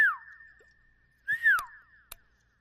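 A person whistles two short rising-and-falling tones, each followed by a steady held pitch, with a couple of sharp clicks between, fairly close and otherwise quiet.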